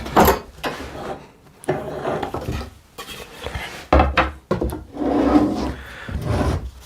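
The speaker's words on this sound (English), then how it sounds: "This has had a good few hours to dry now, so I'm going to take out the clamps." Clamps are loosened and pulled off a glued wooden shaker door, giving a series of scraping, rubbing and knocking wood-and-metal sounds in irregular bursts with short pauses between, close and fairly loud.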